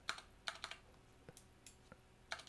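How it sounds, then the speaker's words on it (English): A computer keyboard is tapped with sparse, faint clicks and short bursts of typing, quiet and close, with no voices. "I'm pressing delete key, but it's not deleted"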